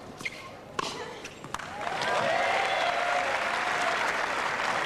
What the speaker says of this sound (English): Dokic really getting the Brazilian fans excited